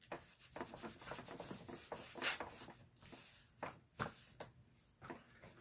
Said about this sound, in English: It only takes a little bit. Buff it in really well.